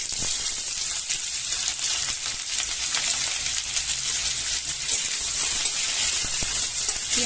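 Onion frying in oil with dry red chilli and whole cumin gives a steady, close sizzle with crackling spits throughout, no voices.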